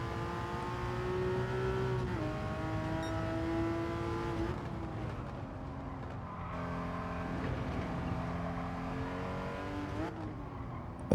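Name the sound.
Porsche Cayman GT4 engine accelerating in Gran Turismo 7 video game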